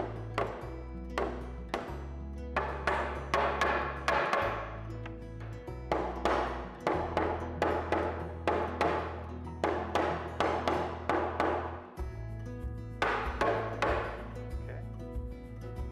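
Wooden tenons are hammered down to seat the side joints of a woodworking project, heard as repeated sharp mallet strikes in steady bursts, close and loud, with a low hum running beneath.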